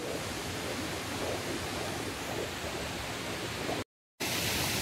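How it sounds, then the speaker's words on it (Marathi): Heavy spray and rushing water from a tall waterfall in the Konkan during July monsoon rain, a steady dense roar close by with a brief dropout near the end. "हे बघा, बघू शकताय वॉटरफॉल किती लांब आहे"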